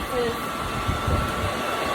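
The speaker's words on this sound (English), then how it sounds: "I have an air dryer next to my bed." An air dryer runs right beside a bed with a steady, even whooshing hum, close and continuous throughout, with no change in pitch or level.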